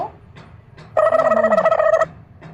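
A telephone bell rings in one loud, close burst of about a second, with quieter household sounds before and after.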